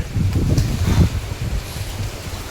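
Strong typhoon wind in Bulacan buffets the microphone in low, gusty roars, loudest early on and easing slightly toward the end.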